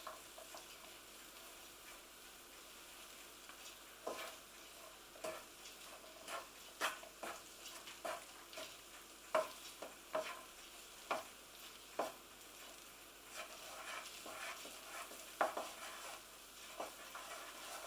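Spiced couscous is gently stirred in a pan over low heat, giving quiet, repeated scraping strokes over a faint background sizzle.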